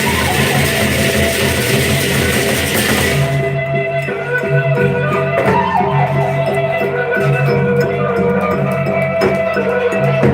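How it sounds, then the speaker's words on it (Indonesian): Loud gendang beleq drum music pounds continuously in the background at a live dopang performance in Labulia, with dense, steady rhythmic drumming and ringing tones filling the space. "ini suara musik gendang belenya ribut sekali di belakang"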